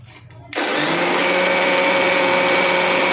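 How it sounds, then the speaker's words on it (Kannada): A mixer grinder grinding masala with sambar powder kicks on after a brief quiet moment, then whirs loudly and steadily with a constant motor whine, close to the listener. "ಸ್ವಲ್ಪ ಹಾಕ್ಕೊಂಡು ಇದನ್ನೇ ನುಣ್ಣಗೆ ರುಬ್ಕೊತಾ ಇದ್ದೀನಿ ಇವಾಗ"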